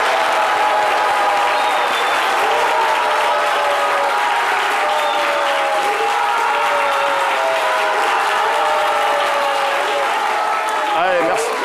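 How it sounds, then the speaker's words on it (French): Studio audience applause on a French midday television talk show, dense continuous clapping with some crowd cheering throughout, loud and close, with a voice speaking over it near the end. "C'est Midi reçoit Akoli Marie-Jeanne sous vos applaudissements."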